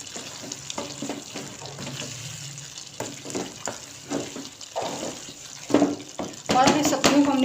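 Vegetable korma stirred in a pot with poppy seed and almond paste, giving soft wet scraping strokes and a light sizzle, close and uneven, with someone talking over parts of it.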